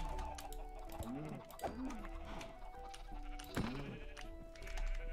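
Blocky farm sheep in Minecraft bleat repeatedly with wavering, nasal calls, several bleats in a row rising over a dense, busy game background, close and fairly loud.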